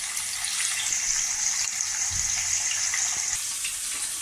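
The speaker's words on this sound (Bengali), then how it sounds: "তাই আমি এটা একটু ভেজে নিচ্ছি" Paneer cubes frying in a pan for palak paneer give a steady, close, loud hiss of sizzling oil that holds evenly throughout with no voices.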